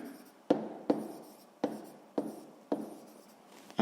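A pen scratches across paper while a sixth-grade math exercise on floor area is written out, with five or six sharp strokes and taps in an uneven rhythm, each followed by softer scratching, close and quiet.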